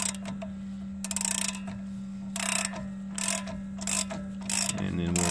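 Ratchet snugging a bolt on a Dodge Ram 1500 wheel bearing, several short bursts of clicking pawl strokes over a constant low hum, close by.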